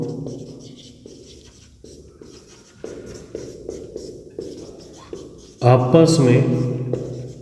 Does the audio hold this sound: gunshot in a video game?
no